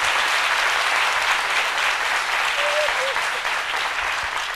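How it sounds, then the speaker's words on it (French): Sustained applause from a studio audience, dense and even throughout, with a few faint vocal sounds rising briefly within the clapping. "Merci d'applaudir très fort à Lucène Sidibé."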